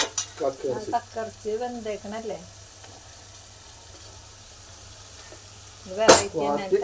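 Curry leaves sizzle loudly in hot oil while a shellfish (clam) roast fries, a continuous crackling hiss with talking over the first couple of seconds and again briefly near the end.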